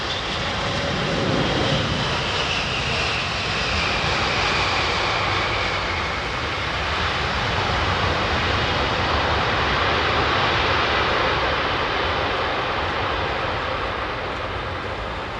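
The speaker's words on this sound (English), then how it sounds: "Vistara's Dreamliner." A Vistara Boeing Dreamliner jet roars loudly and steadily, its broad engine rush holding close and constant throughout, with no voices.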